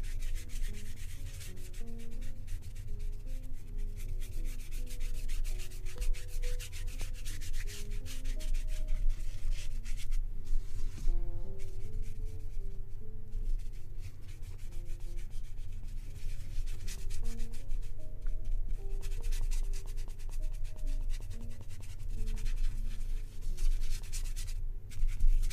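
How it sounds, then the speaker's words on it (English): A paintbrush scrubs green paint onto canvas in a dry-brush manner, giving a continuous soft rasping rub that runs steadily with brief pauses, close and fairly quiet, with no talking. "Scrubbing it in almost kind of like a dry brush, right?"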